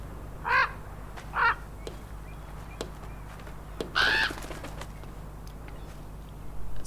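Crows cawing in the Norwegian-set video game Draugen, three short harsh bursts spaced apart over a quiet ambient hum, the last one louder and longer.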